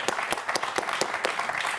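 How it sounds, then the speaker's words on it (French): Studio audience at a French quiz game show applauding a contestant, a dense steady burst of clapping with sharp individual claps standing out, fairly close and with no talk over it. "on va applaudir Sylvie"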